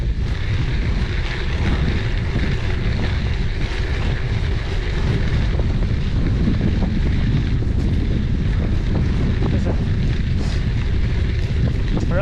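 Wind blasting over the microphone on a bike ride along a trail, a loud, continuous roaring buffet with no pauses.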